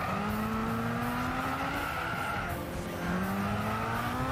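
Tires squeal continuously as a car skids in the Gran Turismo 6 racing game on PS3, a Sprinter Trueno AE86 in a club race, with a steady engine drone under the sustained screech.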